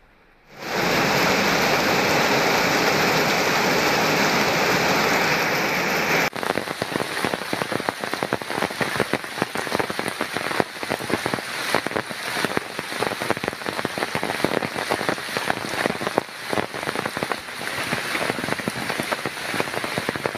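Heavy rain pours down steadily during flooding at the Kalikesam river in Kanyakumari district, a dense, loud hiss that shifts partway through from a smooth roar to a crackling spatter of drops on surfaces.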